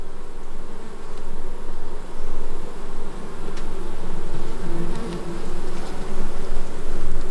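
Honey bees buzz around an open hive during an inspection, a steady close drone that swells and dips in soft pulses with no talking.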